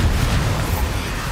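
Bombarda explosion spell in Hogwarts Legacy, a dense, loud burst of crackling blast noise with a rumbling low end that fills the whole short moment without pause.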